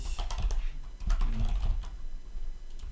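Computer keyboard being typed on while writing Symfony code, a quick irregular run of close clicking keystrokes with short pauses, no voices.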